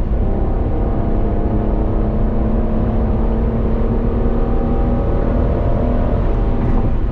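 A car accelerates hard along a road, its engine roar loud, close and continuous, with a steady drone and rising whir throughout and no talking.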